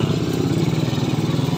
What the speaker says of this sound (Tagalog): Palyado kunti yung motor ko.